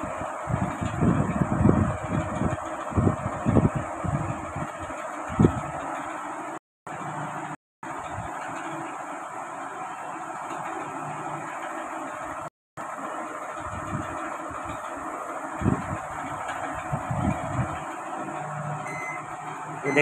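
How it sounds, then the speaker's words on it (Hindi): A microwave oven under repair runs a 30-second heating cycle on a cup of water, giving a steady mechanical hum with fan-like whir and intermittent clicks and rattles, fairly loud and continuous with a few brief dropouts. "30 सेकंड्स का माइक्रो लगा हुआ"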